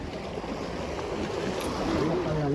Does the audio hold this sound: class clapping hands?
no